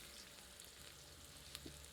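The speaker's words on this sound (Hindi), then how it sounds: "इसे गोल्डन कलर होने तक मीडियम आंच पर भूनते हैं।" Onions fry in oil in a pot over medium heat, giving a faint, steady sizzle with small crackles and no talking.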